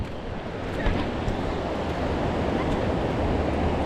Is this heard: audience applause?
no